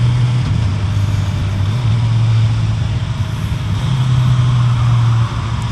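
A Suzuki Hayabusa sport bike accelerates through its quick shifter, its engine a loud, steady close drone with a low hum that dips and climbs slightly between gears, with no talking.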